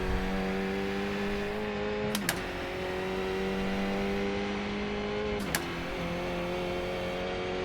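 Steady, continuous engine drone of a car lapping a new race track in a driving video game, a sustained tonal hum with two brief sharp clicks, no talk.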